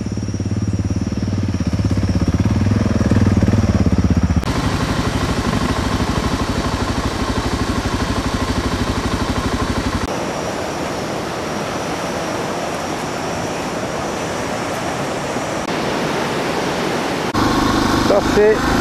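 A motorcycle engine drones steadily during a ride through Gabon over rough bridges of broken planks, a loud continuous roar with shifting texture as the road and speed change.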